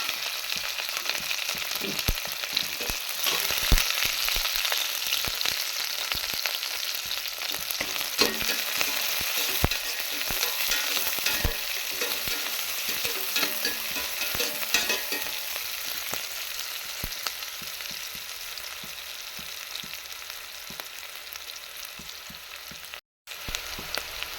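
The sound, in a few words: onions, curry leaves and green chilies frying in oil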